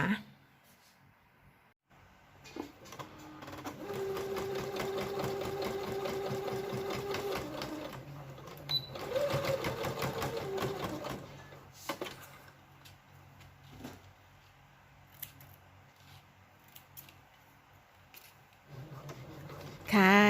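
Sewing machine stitching a cloth face mask, bursts of rapid needle chatter lasting several seconds each with pauses between, close and fairly quiet, with someone talking in the gaps.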